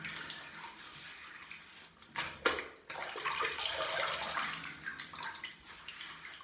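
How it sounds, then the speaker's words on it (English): Water splashes at a sink as a face and neck are re-wetted before a shave, a soft running wash with a couple of sharper splashes midway. "I'm just going to re-wet my face one. And the neck."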